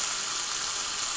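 Bacon sizzles on a hot grill turned up high, making a continuous bright hiss with no pauses.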